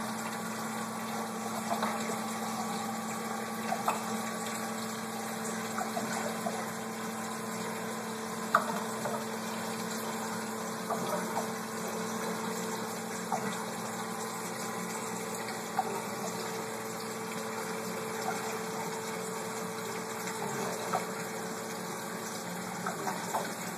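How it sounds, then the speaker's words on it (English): An aquaponics bell siphon fitted with an added air tube drains water in a steady, continuous rushing flow with a faint pump-like hum, holding even and moderately quiet throughout with a few small gurgling bumps. "There it goes, siphoning."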